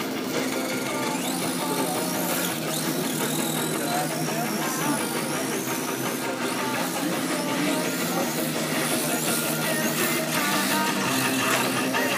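An RC drift model Nissan Laurel C33 runs a fast lap in a qualifying heat, its motor whining continuously and loudly with shifting pitch as it slides through the corners.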